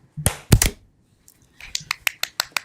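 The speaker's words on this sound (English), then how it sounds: "I clap in front of the camera" A hand clap in front of a camera: a few sharp, close slaps in quick succession, then a pause and a run of lighter, evenly spaced taps and clicks, with no talking.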